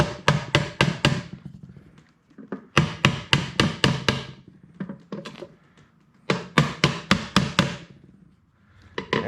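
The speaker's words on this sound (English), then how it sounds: "let me get a little neoprene hammer" A small neoprene hammer taps a REO F20 truck headlight into place, landing close, sharp knocks in quick bursts of five or six evenly spaced blows separated by short pauses.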